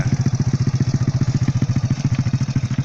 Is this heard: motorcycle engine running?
yes